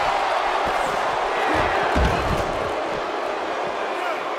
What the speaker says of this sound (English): what crippling force off that slam